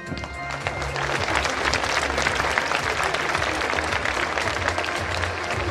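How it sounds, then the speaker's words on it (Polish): A crowd applauds steadily at a sports gala award ceremony after an athlete from an athletics club is called up, the clapping dense and sustained throughout with no talk. "Wielkie brawa."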